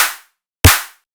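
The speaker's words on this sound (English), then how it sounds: "okay, now I need a snare." A snare drum sample from the Saturated Drums pack sounds twice, each a sharp, loud crack with a short noisy tail and silence between hits.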